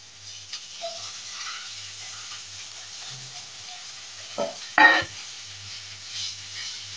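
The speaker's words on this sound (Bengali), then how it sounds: "এখন আমি বেগুন দিয়ে নাড়িয়ে চাড়িয়ে নামিয়ে দেবো" Brinjal pieces tipped into a pan of cooking Brahmi greens and stirred, with a soft steady sizzle, light scraping, and a louder clatter of spoon against pan near the end.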